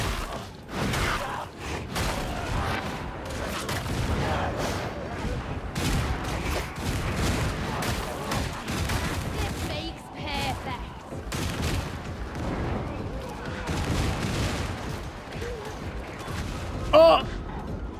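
Sustained gunfire from enemy gunners in the video game Darktide rattles in dense, continuous bursts throughout, mixed with a player's talk and game noise.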